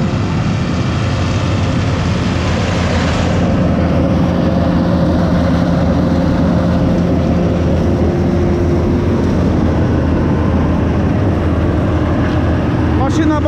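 A wood chipper driven by a Fendt 926 tractor shreds felled trees into chips, a loud, unbroken mechanical roar filling the whole stretch with no break.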